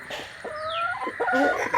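Backyard hens peck at scattered feed in a coop, clucking in short, close, moderately loud calls.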